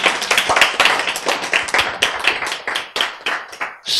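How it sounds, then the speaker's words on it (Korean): Audience applause at a Korean health lecture, a dense burst of many hands clapping for a few seconds, fairly close and steady. "박수!"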